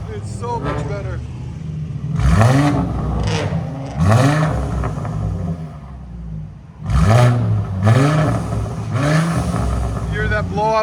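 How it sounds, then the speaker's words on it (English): A Mercedes E 400 with a 3.0L twin-turbo V6 and aftermarket exhaust revs hard four times, each pull rising and falling, with hissy blow-off bursts between. Voices talk over the engine throughout. "You hear that blow-off valve on it?"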